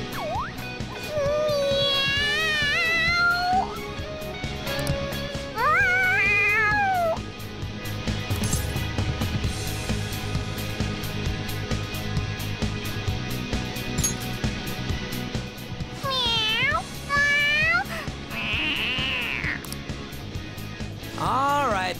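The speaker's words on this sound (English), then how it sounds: "The cat's acting awfully excited." A cat in the Persona 5 video game meows excitedly in several rising, wavering calls spread across the stretch, loud and close, with game voices and background sounds between them.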